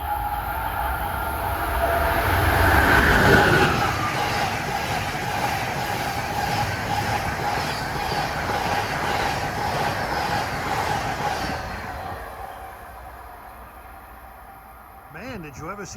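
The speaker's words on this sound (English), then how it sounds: "here comes the 92, the Silver Star, Miami," Amtrak's Silver Star, train 92 from Miami and Tampa to New York with a long string of Viewliner cars, rolls past on the Northeast Corridor between Baltimore and Washington, a swelling rumble and wheel clatter that fades away.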